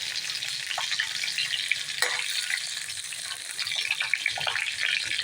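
Stuffed brinjal sautéing in a pan over medium gas, giving a steady close sizzle and frying hiss with faint stirring scrapes throughout and no talk.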